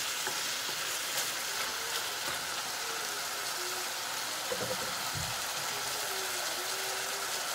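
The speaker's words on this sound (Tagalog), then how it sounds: "Nahalo-halo ko kasi parang hindi siya masunog" Squash sautéing in a pan (ginisang kalabasa) sizzles steadily while a utensil stirs and scrapes through it, with a brief louder clatter near the end, close and continuous.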